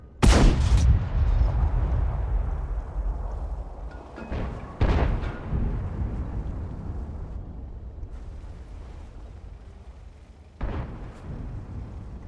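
Tank gun blasts in World of Tanks gameplay with an Obj 907, a heavy booming shot at the start followed by further loud reports around five and ten seconds, each trailing into a long rumbling decay over engine drone.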